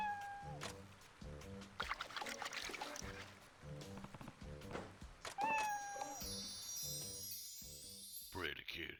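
A cat meows a few times amid an animated samurai-era scene near water, with other busy sounds and music-like tones around it and brief voices.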